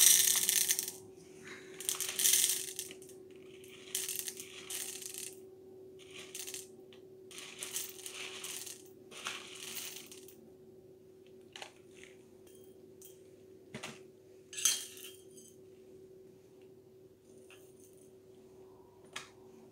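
BTMS pellets for a hair mask poured and clinking into a container on a scale, a run of small, bright, rattling clicks that comes in bursts and thins out, close and fairly quiet, over a steady electrical hum.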